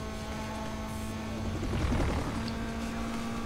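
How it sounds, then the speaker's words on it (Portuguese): Helicopter in the Need for Speed Most Wanted racing video game, a steady whirring rotor drone with a low engine hum that swells briefly near the middle, heard alone without talk. "Eu sei que você tem um helicóptero"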